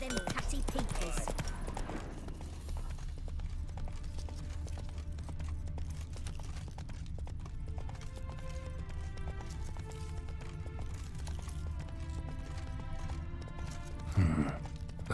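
Roach, a horse in The Witcher 3, trots with steady clip-clopping hooves under a continuous low ambient game score, ending in a short louder burst; no speech.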